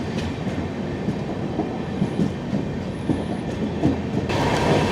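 A 16332 Express rolling slowly, heard from inside a 2A coach: a steady rumble with soft wheel clicks, faint high squeals and a rising surge of noise near the end, with no talk.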